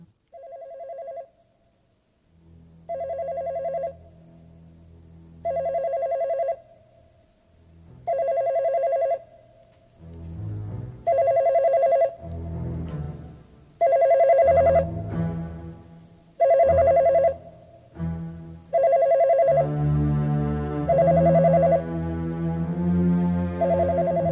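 A telephone bell rings in repeated evenly spaced bursts for over twenty seconds in a 1992 drama, loud and clear, with dramatic music swelling underneath in the later rings.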